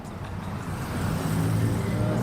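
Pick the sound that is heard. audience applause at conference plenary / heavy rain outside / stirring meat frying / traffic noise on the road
traffic noise on the road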